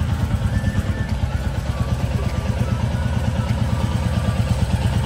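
A Royal Enfield Bullet 350 mid variant, a 2024 model, runs close by with a steady, even thumping engine beat and a slight mechanical clatter throughout.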